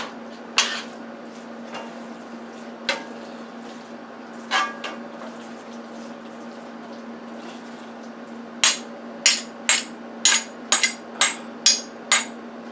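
A kitchen stove burner is switched on under a pot of Italian meat sauce with sausage. A few scattered clanks come first, then a fast run of about eight sharp igniter clicks over a steady low hum.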